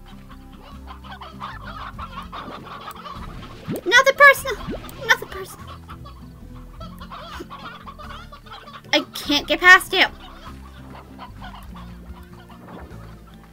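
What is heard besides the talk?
chickens clucking in a video game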